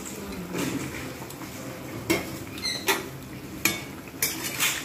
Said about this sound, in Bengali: এবার আমি এর মধ্যে বড়াগুলো ঢেলে দেবো।